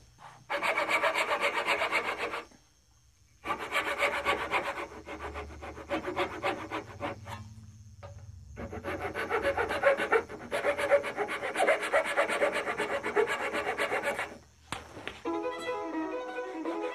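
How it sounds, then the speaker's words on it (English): Maple for a violin is hand-carved and rasped in long bursts of dry, scratchy scraping strokes, with brief pauses between passes and some rhythmic filing near the end, heard close and alone at moderate level. "The maple is quite a bit harder to carve and takes a good deal more time to rough out."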